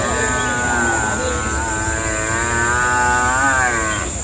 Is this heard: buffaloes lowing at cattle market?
yes